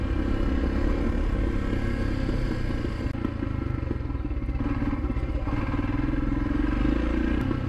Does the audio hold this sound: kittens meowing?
no